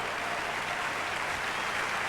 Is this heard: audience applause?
yes